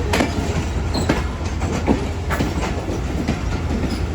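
The Awam Express, a Peshawar to Karachi passenger train, rolls past close by with a loud continuous rumble and rhythmic clickety-clack of wheels over rail joints, with no talk.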